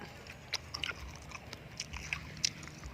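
Close, wet crunching and biting as a large scorpion is chewed, with sharp crackly bites scattered irregularly over a few seconds and no talking.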